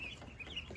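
Seven-day-old laying ducklings peep in short, high chirps, several overlapping calls close by against a steady low background, with no talking.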